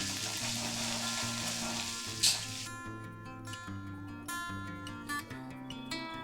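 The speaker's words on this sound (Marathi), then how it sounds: "आलं लसूणची पेस्ट घालून घेऊया मिरची आलं लसूण पेस्ट" Ginger, garlic and chili paste fries in oil in a kadhai with a loud, steady sizzle, with a few light clinks from a spoon over it. Background music plays underneath.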